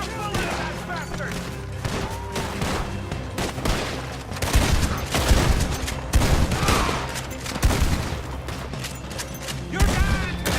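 Gunfire rattles through a Red Dead Redemption 2 gunfight in rapid, dense volleys of sharp shots and heavy thuds, loud and continuous, with game voices shouting between bursts.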